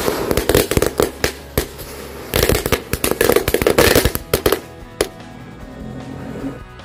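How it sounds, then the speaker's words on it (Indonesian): A large dino egg firecracker goes off outdoors in a rapid string of loud, sharp cracks and pops that crackle irregularly for several seconds, then cut out and leave faint ambience. "yang selanjutnya kita nyalakan mercon telur dino pretek yang besar"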